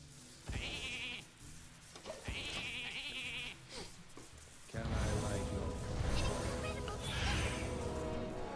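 Sheep bleats from a spell that transforms all minions into sheep in the Hearthstone card game: two distinct bleats, followed by a louder burst of magical game effects mixed with background music.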